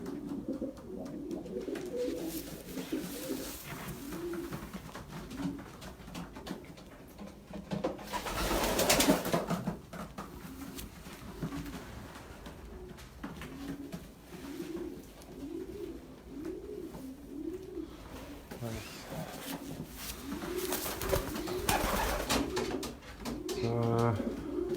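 Racing pigeons coo steadily in a large loft, the repeated soft throaty calls overlapping in a rhythmic chorus, with brief rustling bursts and a fairly busy background throughout.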